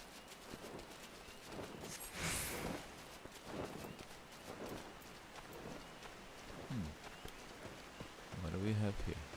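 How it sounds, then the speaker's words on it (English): Steady rain falls through a forest in Final Fantasy XIV, a dense continuous hiss with a low rumble beneath, while a voice talks over it and a brighter rush swells briefly near the start. "It's a rainy day, it seems, in the forest of the 12's Wood."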